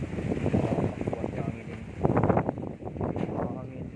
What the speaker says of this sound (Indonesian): Angin ini sangat-sangat berbahaya guys.